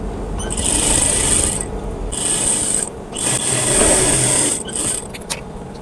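A sewing machine stitches the side seam of a kameez in loud, repeated bursts of rapid whirring, starting and stopping several times with brief pauses between runs.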